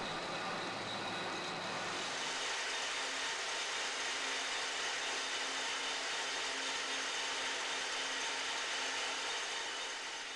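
Jute spinning frame with its bobbin rail driven up and down by a hard cam through levers, pulley and chain: a steady, loud mechanical roar and hum of running machinery, unbroken throughout, with a slight shift in tone near the start.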